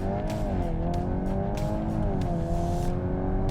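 A Volkswagen Golf accelerates hard through a 100-metre sprint, its engine note climbing steadily with a brief dip at a gear change before rising again, heard close and continuous with no talking.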